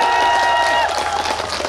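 Applause from an outdoor audience at a trot singer's concert in Yecheon's permanent market, a dense broadband patter of clapping filling the short stretch, with faint crowd murmur and no distinct speech.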